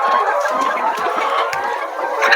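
A flock of chickens, rooster among them, clucking continuously and close by, with overlapping calls filling the short stretch.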